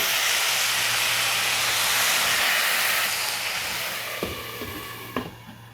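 Loud, steady sizzling hiss close up as water is sprinkled into a hot pan of cooking pumpkin, gradually easing off near the end with a few soft clinks.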